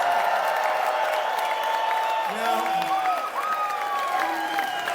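A large crowd at a political rally in San Jose, California, fills the space with a steady roar of applause and cheering, while someone speaks over it through amplification.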